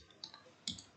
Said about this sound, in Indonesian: setelah itu sudah diklik NISN-nya, maka bisa ketik namanya, contoh Ahmad